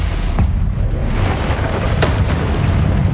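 Spell explosions from Confringo and Bombarda blasts in the Hogwarts Legacy video game, a dense run of deep booms and bursts rolling over continuous low rumble, loud and close with no talk.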